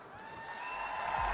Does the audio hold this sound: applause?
yes